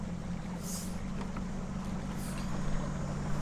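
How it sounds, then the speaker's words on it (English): A fishing boat's outboard motor idles on a lake while searching for deep smallmouth bass, giving a steady low hum with faint water wash and a couple of soft hissing splashes. "So I'm going to idle back over it."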